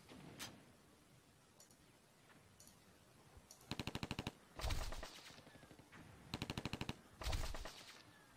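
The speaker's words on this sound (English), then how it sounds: "let's shoot over here, so we only hit the infantry" Rapid bursts of automatic gunfire in the strategy video game 1942 Pacific Front, two pairs of short rattling volleys each followed by a heavier blast, over faint ambient noise.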